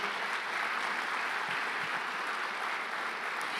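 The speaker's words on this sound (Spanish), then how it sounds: "Dele un fuerte aplauso al Señor Jesús." Congregation applauding during a Spanish-language church service, a continuous wash of many hands clapping at a fairly quiet, distant level with no speech.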